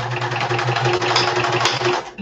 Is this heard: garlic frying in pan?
no